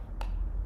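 A single short mouse click on a computer's Login button, close and crisp, isolated against quiet room noise.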